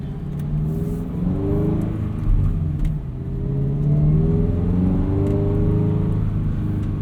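Subaru BRZ, tuned and fitted with a header, heard from inside on a drive as a loud continuous engine drone that climbs in pitch through repeated revs and gear pulls, with no speech.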